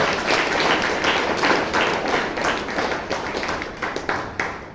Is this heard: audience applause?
yes